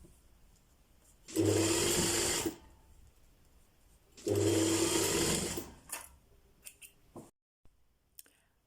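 A sewing machine stitches a button placket in two steady bursts of about a second each, separated by a pause, followed by a few light clicks and handling taps.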